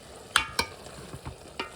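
Maggi noodles being stirred in a frying pan, with a few sharp scraping strokes of a utensil over a soft, low sizzle; close and fairly quiet, no talking.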